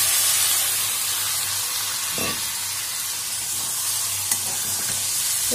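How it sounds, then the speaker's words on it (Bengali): Deboned lote fish tipped into hot spiced oil in a pan, giving a steady, close frying sizzle and hiss throughout, with a few soft stirring scrapes and no voices. "আমার যে লোটে মাছটা কাঁটা ছাড়িয়ে রাখা ছিল, এবার সেটা আমি এর মধ্যে ঢেলে দেবো"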